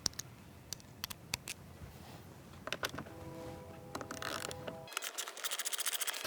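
A 10mm socket ratchet works seat bolts on a Honda CRF 450, with faint, sparse clicks at first and then a quick run of close ratcheting clicks near the end, no talk.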